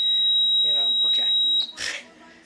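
A buzzer on an Arduino IR infrared proximity sensor gives a loud, steady, high-pitched electronic tone for about a second and a half, then cuts off abruptly. A voice is briefly heard beneath it.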